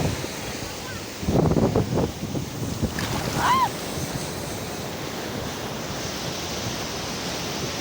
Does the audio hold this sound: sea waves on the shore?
yes